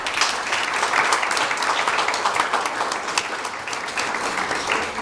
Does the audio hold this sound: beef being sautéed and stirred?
no